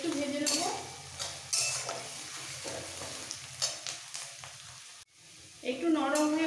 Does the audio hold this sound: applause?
no